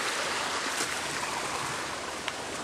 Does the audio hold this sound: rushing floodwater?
yes